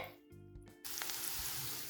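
Boiled potatoes cooking in a pan for chutney batata give off a soft, steady sizzle that starts after a brief quieter moment and continues faintly to the end.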